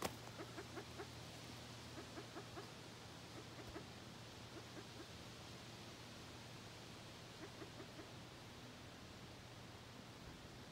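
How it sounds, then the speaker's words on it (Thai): Red junglefowl clucks repeatedly in short bursts, faint and distant, set against steady outdoor background hiss in Alaska wildlife surroundings. "อันนี้นกไก่ป่านกไก่ป่าเนี่ยต้องเลี้ยงลูก"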